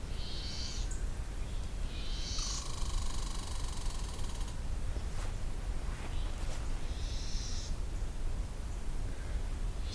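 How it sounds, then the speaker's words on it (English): A warbling vireo scolds near a meadow pond with harsh, buzzy rasping bursts, one long sustained stretch among shorter ones, over steady wind or water hiss; no voices are heard. "Got a warbling vireo being very angry."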